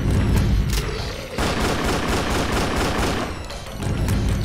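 A railbow gun fires in the video game The Golden Souls, a dense rapid volley of loud crackling blasts with a sustained roar, a brief gap, then another burst at close range.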